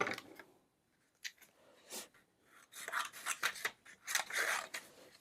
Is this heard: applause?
no